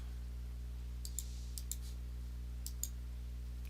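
Computer mouse clicks sound in a quiet room over a steady electrical hum: about six sharp, faint clicks, some in quick pairs, spread across a few seconds with no talking.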